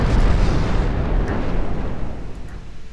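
A 15-inch shell strikes a warship in Ultimate Admiral Dreadnoughts with a deep, loud rumbling explosion that fades over three seconds, with no talk over it.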